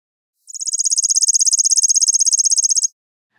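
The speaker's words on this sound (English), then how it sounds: "One species that produces trilled songs," Chipping sparrow trilled song, a rapid dry run of identical high chips repeated evenly for about two and a half seconds, rising slightly in volume at the start, clear and alone against silence.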